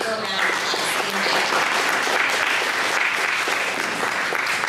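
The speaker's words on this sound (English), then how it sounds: "Give him a round of applause." Sustained audience applause at a youth tech day event, dense steady clapping from a crowd that fills the room throughout without a break.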